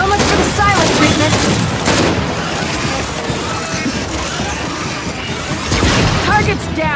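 Sustained heavy gunfire in the shooter game Gears of War 5, dense rapid bursts and booms roaring loud and continuous for several seconds, with brief voices shouting over the barrage.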